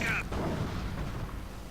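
Nebelwerfer rocket artillery firing during a World War II strategy game battle, a loud burst of launch noise at the start that fades into a sustained rumbling wash of battle sound, with a narrator's voice underneath.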